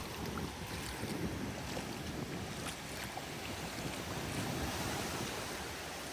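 Steady, loud surf crashes and washes along a shallow Pacific beach at Puerto Vallarta, Mexico, where the waves can get choppy. The roar is continuous and close, mixed with wind buffeting the microphone, and no voices are heard.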